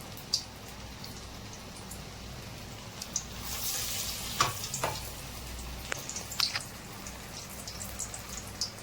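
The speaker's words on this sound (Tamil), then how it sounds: "கையில் வச்சு கொஞ்சம் ஃப்ரெஷ் பண்ணி எண்ணெயில் போடணும்" Banana flower vada batter drops into hot oil, a soft, faint crackling fry with scattered pops and drip-like ticks that swells briefly midway.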